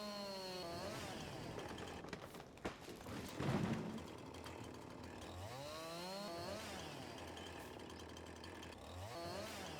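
A chainsaw in Farming Simulator 22 whines and revs, its pitch sweeping up and down repeatedly over about ten seconds, with a brief louder burst partway through, moderately loud and alone.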